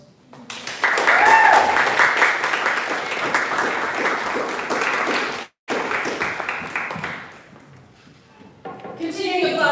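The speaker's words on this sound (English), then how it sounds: "Continuing applause for his first round." Applause at a Blue Hour poetry reading swells quickly and holds as a full, close clapping for several seconds, cuts off briefly, then tapers away into quieter room sound and a voice near the end.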